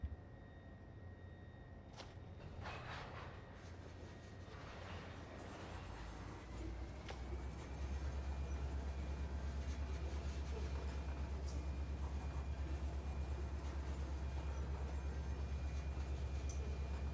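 Union Pacific freight cars being shoved slowly through the Fresno rail yard, a steady low rumble and rolling drone that grows heavier and continuous, with faint clanks early on.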